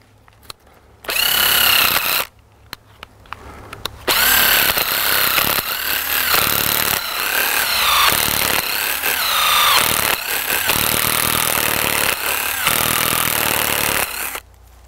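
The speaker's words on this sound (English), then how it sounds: "I've got a 5/16 drill" A 5/16 drill bores a tap hole into a bigleaf maple trunk in loud bursts of grinding, chewing wood noise, starting and stopping several times with brief pauses between runs.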